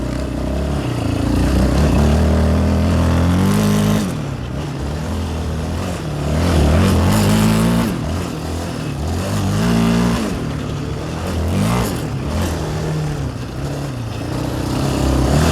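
Yamaha 700 Raptor quad engine burbling smoothly at low revs, a steady close-up rumble with gentle swells in pitch as the throttle is eased on and off, no voices over it.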